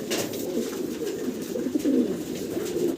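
Two large female Mundian fancy pigeons coo softly on a farm, a low rolling burble that swells and repeats for a few seconds with no talk over it.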